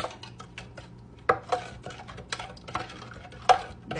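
Bread dough with real butter and egg being mixed by hand in a bowl, giving soft scattered clinks and scrapes, with a few sharper knocks of utensil against the bowl.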